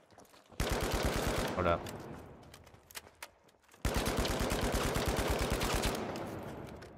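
Sustained automatic FCAR rifle fire in the shooter game The Finals comes in two long, loud bursts of rapid, evenly spaced shots with a short pause between them, and someone speaks briefly once.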